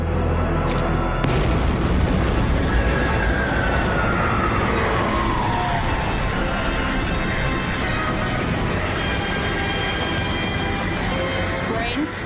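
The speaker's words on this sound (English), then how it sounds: "Assuming you can escape the blast!" A sustained, loud rumbling blast from an animated action show, filling the scene with dense roaring noise and a faint rising whine, with siren-like tones and a voice briefly over it.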